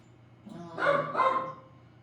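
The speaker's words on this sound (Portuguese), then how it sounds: "Fundo de cachorro, né, gente?" A dog barks somewhere in the background, two brief muffled yelps close together, moderately loud above a low steady room hum.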